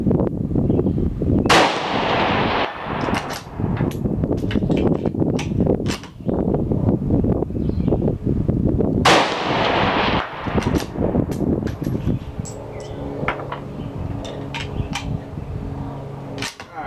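Sharp gunshots crack out, with two louder reports spaced several seconds apart and a string of quicker shots between them, each followed by the ringing clang of rounds striking a steel target downrange.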